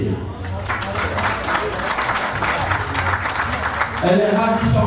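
Steady applause from a crowd at a ladies' gala ball fills the space, with a voice speaking over it near the end.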